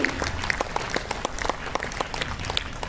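Applause from the audience at a Brahma Kumaris stage event, a steady patter of many hands clapping with sharp individual claps standing out, moderately loud and mostly alone with little talk.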